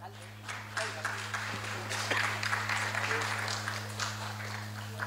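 Moderate audience clapping at a Mumbai Marathi journalists' association award ceremony, irregular and fairly quiet, lasting a few seconds over a steady low hum in the hall.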